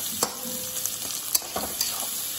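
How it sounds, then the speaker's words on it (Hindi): Onions and capsicum frying in a pan for paneer chilli, a steady close sizzle with several sharp stirring scrapes and clicks over a few seconds, no talking. "और प्याज ऐड कर देना है।"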